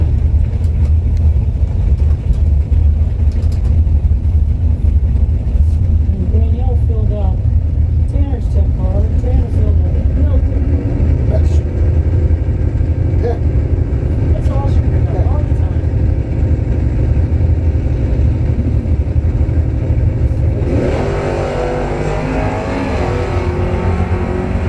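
Drag racing cars roar loudly and continuously at Bradenton Motorsports during a bracket event, a dense engine rumble with rising revs throughout, while an announcer talks over it.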